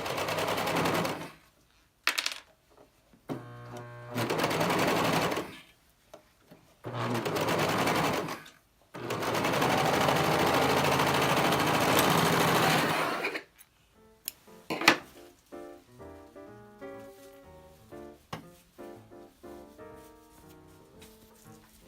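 A sewing machine stitches gathered fabric in several bursts of rapid mechanical clatter separated by short pauses, with one long steady run, then a quieter stretch of handling sounds.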